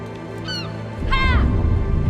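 Birds in the video game Rime flap off with a couple of quick cawing calls and a burst of wingbeats, close and fairly loud.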